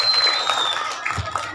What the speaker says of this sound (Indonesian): Tepuk tangan untuk siswa Negeri 3 SD Cibodas.